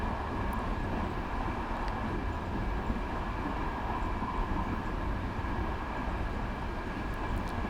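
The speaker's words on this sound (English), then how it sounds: "So I'm just going to allow the train to coast at this point" Diesel locomotive coasting in the game Train Simulator 2015 on the Los Angeles to Irvine line, a steady low rumble and drone of running gear, even and continuous with no voices.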